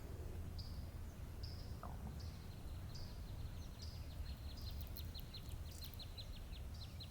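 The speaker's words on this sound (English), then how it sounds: "You can still hear the birds and the insects, but it's definitely quieted down." Faint bird chirps repeating at intervals and a soft insect trill during a solar eclipse in southern Illinois in April 2024, distant and quiet over a steady low background hiss.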